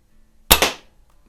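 A single sharp report from a century-old Quackenbush air gun, a close crack with a quick second snap and a short fading tail, set against near silence.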